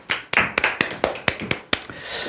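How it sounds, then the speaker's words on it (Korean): A small audience claps in a lecture setting: about ten close, sharp handclaps in a quick, slightly uneven sequence, then a short soft wash at the end. "네, 박수!"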